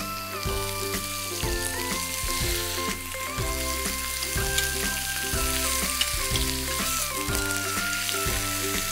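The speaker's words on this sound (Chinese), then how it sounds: "我要来煎我的这个猪肉。" Thin pork slices sizzle steadily in a non-stick pan alongside some onions, a constant crackling fry heard under background music.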